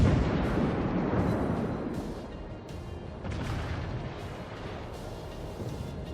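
Cruiser guns fire in a naval combat video game, a dense wash of deep booming rumbles and overlapping blasts that swell and fade continuously, loud throughout with no clear pauses.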